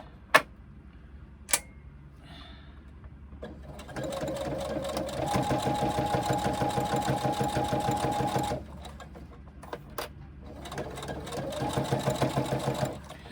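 A domestic sewing machine top stitching a pouch, running in two bursts of fast, rhythmic mechanical clatter with a whining motor, separated by a pause with a few sharp clicks.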